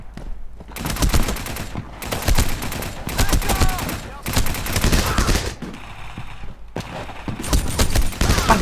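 Bursts of video game gunfire in a Dien Bien Phu battle game, loud rapid volleys and machine-gun fire in several clusters separated by short pauses, with faint talk in places.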